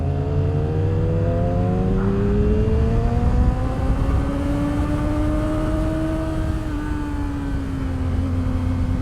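Yamaha R7 motorcycle ridden on a twisty road, its engine note climbing steadily through the revs, loud and close with heavy wind rush and no talking.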